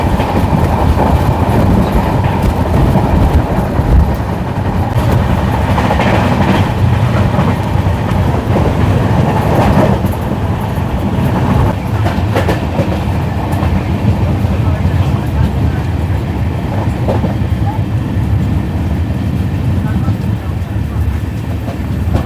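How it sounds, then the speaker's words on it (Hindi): Steady rumble and rattle of a moving passenger train, the Lichchavi Express 14005 hauled by an Amrit Bharat locomotive, as the opposite Lichchavi Express 14006 passes alongside; continuous close rolling noise with clattering wheels throughout. "यहाँ पे हम बोलेंगे कि एक लिच्छवी ने दूसरे लिच्छवी को क्रॉस किया।"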